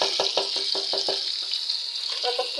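Fish frying in a pan with turmeric, a steady hiss of hot oil broken by a quick run of sharp spitting pops early on, close and continuous.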